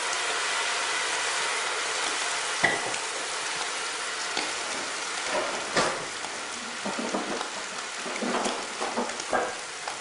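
A blended chilli mixture poured into a hot pan of frying chicken for chilli jam, hissing and sizzling steadily with scattered crackles and stirring scrapes, close and fairly quiet, no talking.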